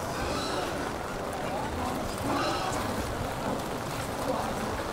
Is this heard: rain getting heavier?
yes